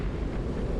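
A plasma bomb detonates in the space strategy game Battlefleet Gothic, a dense, sustained low rumbling blast that fills the whole short moment at steady loudness, with no voices.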